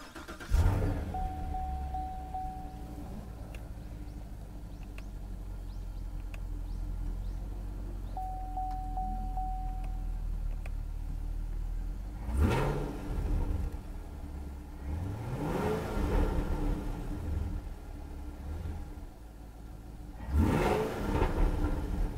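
A deep Chevrolet Camaro SS with a GM small-block LT1 V8 idles with a low rumble, then revs sharply several times, each throttle blip rising and falling, heard from nearby.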